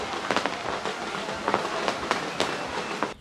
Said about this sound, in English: And then at the end, there's this big fireworks show